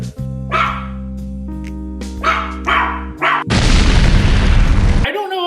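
Dog barking in a film scene, several sharp barks over a low droning musical tone, followed by a loud burst of booming noise.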